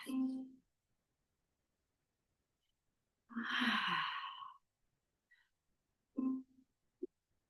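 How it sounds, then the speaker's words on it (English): Deep, slow breaths during a Kundalini yoga session: a long sigh-like exhale, a louder breathy inhale-exhale a few seconds later, then a shorter breath and a soft catch near the end, with quiet pauses between. "Deep breath in. Exhale"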